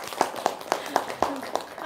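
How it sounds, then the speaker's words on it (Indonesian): Audience clapping at a gathering, heard as a slow, steady series of about eight distinct claps spaced evenly, fairly close and moderately loud, with faint voices in the background. "tepuk tangan dong."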